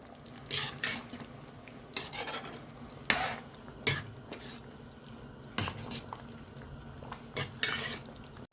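Okra tamarind curry is stirred in a pot with a spoon, giving about a dozen scraping strokes that come in short, uneven bursts over a low simmer, close by, with no talking.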